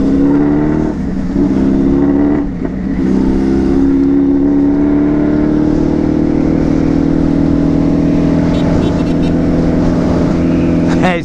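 A Suzuki B-King motorcycle accelerates hard on a São Paulo road, its engine note rising steadily and loud throughout, with someone talking over the riding noise.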